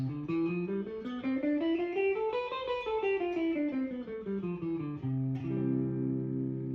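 Clean guitar notes climb step by step up a scale and then descend again, played evenly and alone, ending on a sustained ringing note.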